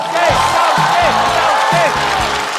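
A stand-up comedy audience claps and cheers for a comedian taking the stage, loud sustained applause with whoops and rhythmic chanting of a name from the crowd.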